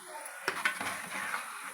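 Spoon stirring coconut powder into chicken fry in a pan, with soft scraping and clinks against the metal over a faint steady sizzle, close and quiet.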